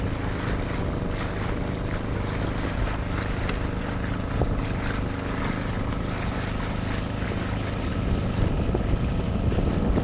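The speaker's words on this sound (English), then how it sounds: "we're taking the dinghy into one of the exclusive canals in Key Biscayne" A dinghy motors through residential canals in Key Biscayne, its outboard a steady close drone mixed with rushing wind and water noise, continuous and without talk.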